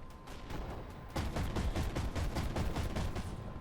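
Rapid cannon fire from a BMPT Terminator vehicle in the game Armored Warfare, a fast string of loud repeated shots that starts after a quieter opening and continues steadily to the end.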